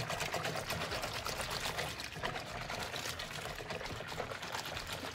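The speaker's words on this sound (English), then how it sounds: "you're just gonna use your hand and kinda mix it up" A hand swishes through a basin of water to mix in shampoo for washing a wig, a close, continuous sloshing and splashing that keeps an even level throughout.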